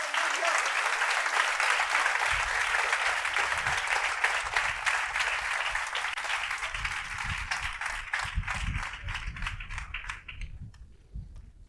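A large youth conference congregation applauds in a dense, loud roar that thins into scattered individual claps and fades out near the end, with low murmuring voices creeping in underneath.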